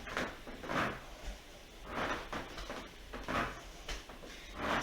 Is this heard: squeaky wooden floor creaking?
yes